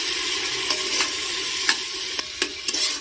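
Ginger garlic paste fries in a pan while a spoon stirs it, giving a steady close sizzle broken by several sharp scrapes against the pan.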